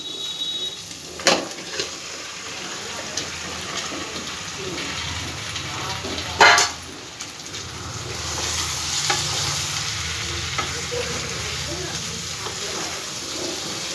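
Chicken pieces added to oily spice paste for Delhi-style chicken changezi sizzle and fry in a pan, with a few sharp stirring scrapes and a loud clatter midway and a steady sizzle that builds after.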